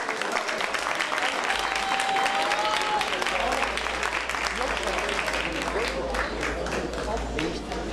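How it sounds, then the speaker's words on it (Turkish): An award-ceremony crowd applauds as a social responsibility project honoree walks onto the stage; steady, dense clapping with a faint low hum and a brief tonal sound underneath, no clear talk. "Sevgili Okan Top, alkışlarınız da sahneye geliyor."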